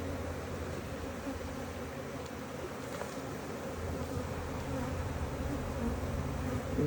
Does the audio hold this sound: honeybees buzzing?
yes